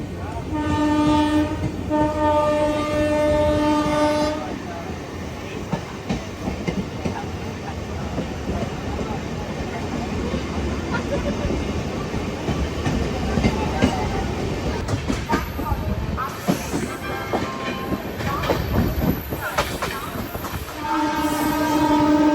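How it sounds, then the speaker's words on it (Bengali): The Brigade Chalo special passenger train, running from Haldibari to Kolkata, passes close by with a loud, steady rumble of wheels and carriages, its horn sounding at the start and again near the end. "এটা হচ্ছে আজকে ব্রিগেড চলো স্পেশাল ট্রেন।"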